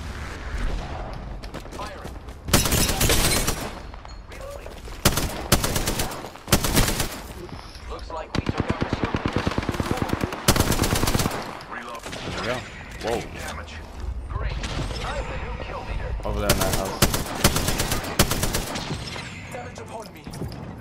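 Video game gunfire crackles in bursts through a tactical shooter firefight, loud repeated volleys with mechanical clicks and gear sounds between them, while a player talks over the action.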